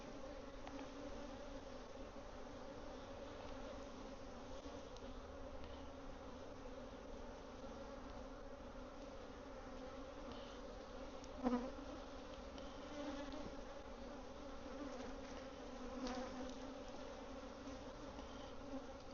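Honey bees buzzing around an open beehive during a swarm check, a steady low drone of many insects holding at a constant, moderate level with one brief louder bump, no talking.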